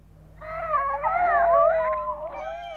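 A drawn-out, tonal cat-like yawning vocalisation for Bagpuss, the cloth cat of the children's show, rising and wavering for about two seconds, close and clear against a quiet background.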